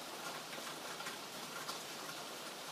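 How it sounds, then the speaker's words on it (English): Steady, even hiss of rain falling, a soft constant patter with no voices or other sounds. "It's raining again."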